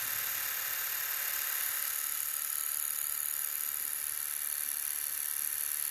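Barbasol rechargeable electric shaver running with its blades moving, a steady high-pitched motor buzz held close and constant, without talking.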